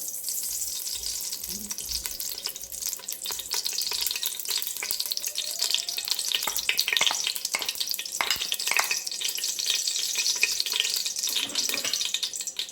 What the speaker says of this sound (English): Allow to sizzle.